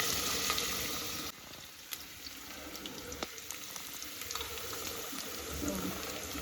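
Onions frying in a pan for Ambur chicken biryani, a soft continuous sizzle with scattered crackles and occasional stirring clicks, fairly faint and heard without talking.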